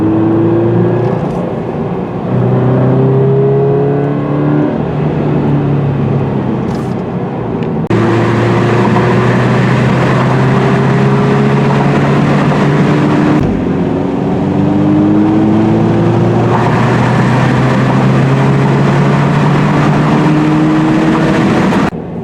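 A 2020 Toyota 86 Hakone Edition sports car driven hard, its engine loud and close from inside as it revs up through the gears, with sharp pauses at shifts and repeated rising pulls.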